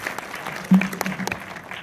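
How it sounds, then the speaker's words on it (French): Light applause for the guests at a film premiere in Orléans, a sparse, fairly faint patter of hands from a modest crowd with a low voice briefly audible beneath. "on peut les applaudir"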